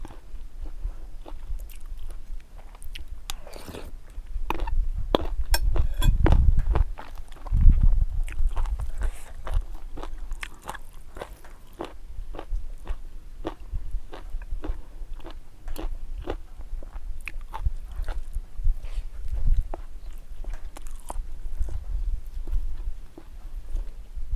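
Crunchy chewing and biting of a Thai curry made with puffball mushrooms (hed phao), with bursts of close crunches amid steady mouth noise and a few low thumps.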